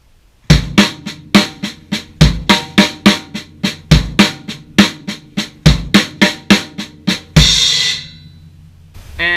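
Drum kit playing an RLRLLK lick slowly, each phrase starting on the kick: steady, evenly spaced hits with kick thumps and cymbal wash, ending on a ringing crash.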